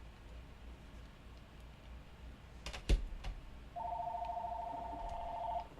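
Indoors, a sharp click and a couple of taps come first, then a telephone rings with a steady electronic tone that lasts about two seconds over quiet background hiss.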